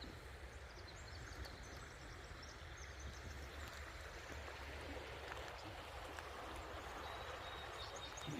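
Clear creek water flows along a stream where people fish, a faint, continuous rushing and babbling that stays even throughout, with no voices.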